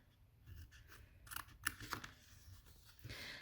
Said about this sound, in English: Let's go ahead and bevel and cut those 2 out.